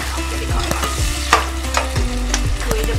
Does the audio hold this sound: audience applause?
no